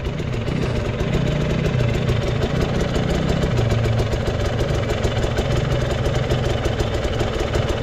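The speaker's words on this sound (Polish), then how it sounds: "Tu jedzie kuzyn na pitbajku." Loud, continuous small engine buzzing and revving close by, a pit bike running on a motocross track, with no voices.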